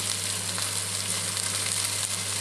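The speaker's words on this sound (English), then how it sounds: "So for the caramelized onions, we start off with a pot on, again, a medium, this time to high heat. Add the onions in." Onions hitting a pot over medium-high heat give a loud, dense, even sizzle that runs close and unbroken throughout, with a low steady hum beneath it.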